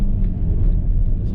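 A Jeep Renegade fitted with a Pedal Commander throttle controller accelerates hard, its engine a loud, steady low rumble with road roar that holds strong throughout the brief stretch.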